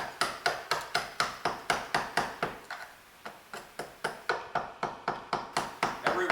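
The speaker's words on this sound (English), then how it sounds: "and knock the glass off." A screwdriver knocks the old rear glass off a 2016-2023 Toyota Tacoma with a steady run of sharp, close taps, about three per second, pausing briefly midway before resuming.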